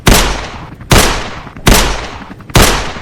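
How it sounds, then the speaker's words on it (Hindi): Four loud, sharp pistol shots at roughly even intervals for an audio drama, each with a reverberant tail, close and without talk. "डोगा की पिस्टल ने एक पल भी ना गंवाया"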